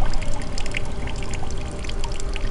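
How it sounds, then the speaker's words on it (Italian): Water runs steadily from a toilet in The Midnight Man horror game, a continuous pouring, trickling rush that is loud and close throughout. "Qualcuno sta facendo andare l'acqua del cesso?"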